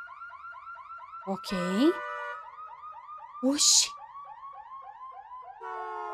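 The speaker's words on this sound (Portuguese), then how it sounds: "O alarme tá morrendo." Electronic alarm in the horror video game Massacre At The Mirage, a steady rapidly repeating warble that runs throughout, broken by two short bursts of noise and sweeping tones, with a voice speaking briefly.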